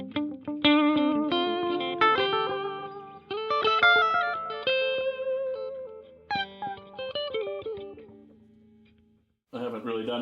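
Electric guitar played through a Donner delay and reverb pedal, clear melodic notes and chords with audible echoing repeats and a reverb tail, a short pause near the end before playing resumes.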